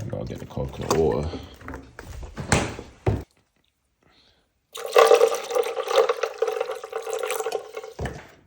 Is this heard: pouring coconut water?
yes